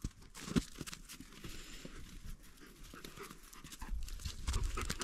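A dog pants close by with quick, rhythmic breaths and shuffles about, with a few soft thumps of movement.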